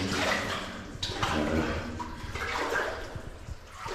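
Someone wades almost waist deep through water on Mount Te Aroha, with steady loud sloshing and churning swirls running throughout, close by.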